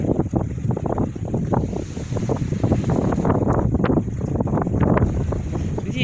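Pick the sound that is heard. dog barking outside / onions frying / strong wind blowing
strong wind blowing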